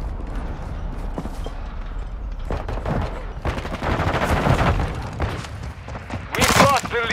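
Bursts of automatic gunfire and heavy booms in Call of Duty: Modern Warfare II, coming in clustered volleys with a loud blast near the end, mixed with shouted voices.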